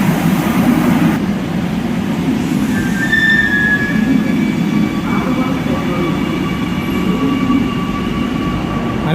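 A Kochi metro train runs steadily, a loud continuous rumble of wheels and motor with faint whining tones rising and fading through the ride, no talking over it.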